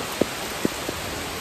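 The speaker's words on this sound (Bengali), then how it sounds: "দেখুন কি জোরে বৃষ্টি হচ্ছে" Heavy rain pours down during a Kalbaishakhi (nor'wester) storm, a dense, steady hiss with a few sharper drops splashing close by. No one speaks.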